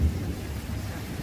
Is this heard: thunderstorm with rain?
yes